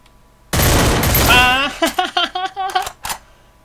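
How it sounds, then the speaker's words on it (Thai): A short burst of rapid gunfire in the mobile shooter Garena Free Fire crackles loudly for about a second, followed by a voice and several sharp clicks and pops. "ผมได้ยินเสียงปืน"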